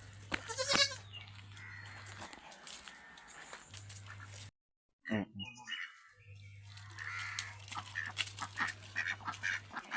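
A goat and its 15-day-old young male kid at a livestock sale bleat a few times, with other farm animals and birds audible and brief talk in the background.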